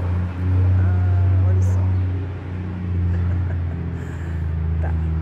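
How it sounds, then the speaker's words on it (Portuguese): A truck passes outdoors, its deep engine rumble droning loudly and steadily, swelling and easing across the whole stretch, with a voice speaking over it. "Deixa eu passar o caminhão."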